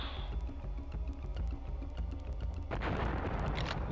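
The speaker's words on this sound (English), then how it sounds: "We're going to pipe bomb them, of course." Pipe bomb blasts and gunfire in the PS1 shooter Duke Nukem: Land of the Babes, a steady run of rapid crackling shots over a rumbling low bed, then a loud broad burst near the end, with no talk.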